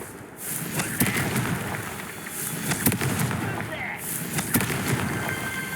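Confringo fire spell blasts in Hogwarts Legacy, sharp crackling bursts repeating about every second or so with whooshing swells between them, fairly close and loud.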